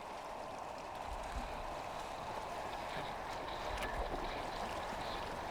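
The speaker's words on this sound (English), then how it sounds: "The water effect is pretty good for being old." Steady flowing water from an older video game, a continuous broadband rush like a stream with no talk over it, fairly loud and even throughout.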